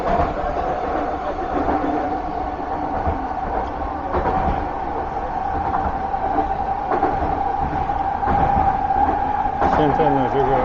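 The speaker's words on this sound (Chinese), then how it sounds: "现在呢，这个地铁过河了" A Vancouver SkyTrain metro train crossing a river bridge, heard from inside as a steady rolling rumble with a sustained electric whine and occasional rail clatter, while someone talks over it.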